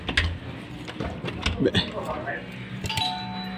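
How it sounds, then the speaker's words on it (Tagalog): A hotel room doorbell chimes with a clear ringing tone near the end, following shuffling, clicks and a person talking nearby. "Doorbell natin."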